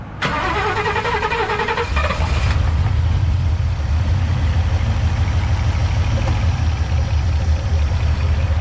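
A Ford Mustang GT 5.0 running E85 fuel cranks for about two seconds with a fast whirring starter, then catches and settles into a loud, steady idle rumble, close up and uninterrupted by voices.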